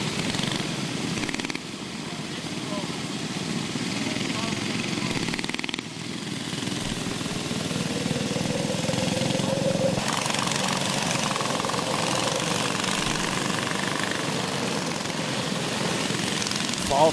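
Small backyard go-kart engines drone together at the start of a 55-lap feature race, a steady buzzing engine noise throughout with someone commentating over it on a loudspeaker.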